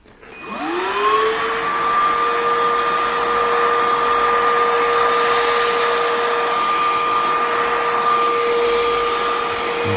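A cordless stick vacuum cleaner on its lowest power setting spins up quickly, then holds a loud, steady whine with an airy hiss, running alone for the whole stretch.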